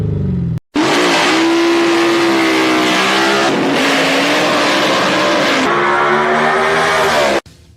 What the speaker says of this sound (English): With a QuickTime Performance electronically controlled exhaust system, you can have race car loud with the flip of a switch